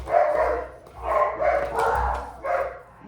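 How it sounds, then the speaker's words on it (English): Dogs barking nearby indoors, four or five rapid bursts of bow-wow barks over about three seconds with brief gaps between them, loud and alone without talk. "I'm so sorry about the dogs"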